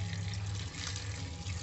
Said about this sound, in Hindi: अब हम इसमें डालेंगे ज़रूरत के हिसाब से पानी।